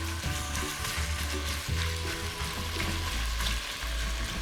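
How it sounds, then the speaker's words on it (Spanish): Ground meat sizzles alone in extra virgin olive oil in a pot, a steady close frying hiss with faint low clatter throughout. "Colocamos nuestra olla con aceite de oliva virgen extra. Vamos a sofreír ahora la carne nada más,"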